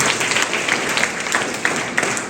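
Schoolchildren applauding at a school gathering in Odisha, a continuous busy patter of many hands clapping with a few sharper individual claps standing out.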